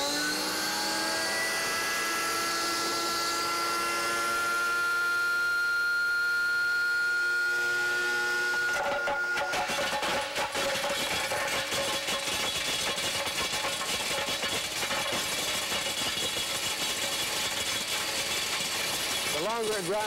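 Vita-Mix blender running on high speed with a clear plastic cover over the top, starting with a tonal whine that gives way to a loud, harsh, steady grinding roar lasting the whole time.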